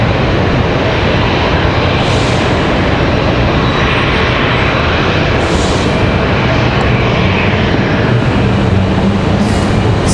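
An Alaska Airlines jet on flight 572 lands at Raleigh-Durham International Airport, its engines giving a loud, close, continuous roar with no letup.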